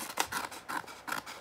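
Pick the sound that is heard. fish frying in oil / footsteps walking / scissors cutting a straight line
scissors cutting a straight line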